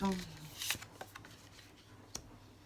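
Tarot cards are shuffled and drawn, giving a few quick papery riffles and soft snaps, with a voice briefly heard at the start.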